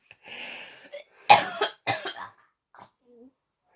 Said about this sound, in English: having a bit of a cough there